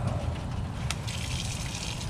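A strong jet of hot water gushes steadily from a homemade hose bib, a constant close splashing hiss for about two seconds.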